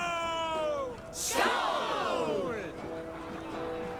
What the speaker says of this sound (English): Join the battle cheer.